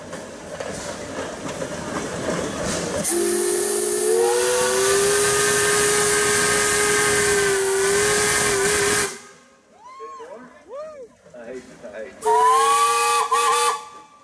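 An antique steam engine at a pioneer engineers' parade blasts its steam whistle in long, loud sustained tones, falling silent briefly before several shorter toots and a final strong blast, with hissing steam and outdoor crowd noise underneath.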